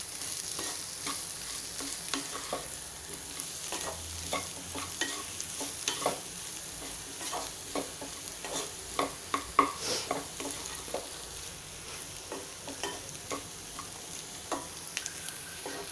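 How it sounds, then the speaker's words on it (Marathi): Spoon scraping and stirring masala dosa onion filling with coriander in a pan, quiet repeated taps and scrapes over a low steady sizzle, no talking. "आता हे छान आपल्याला मिक्स करून घ्यायचं आहे"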